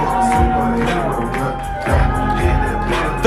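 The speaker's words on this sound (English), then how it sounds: "Listen to that crowd." Cheering and whooping from a wrestling crowd after a pinfall win, a dense, moderately loud wash of voices that swells in waves, with a few shouts rising above it.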